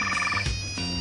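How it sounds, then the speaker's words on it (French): A mobile phone ringtone plays as a bright, tonal electronic melody, with short repeating notes that change pitch across the brief clip. "c'est le téléphone de Martin"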